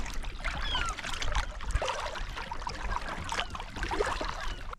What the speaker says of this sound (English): We are just paddling up to it right now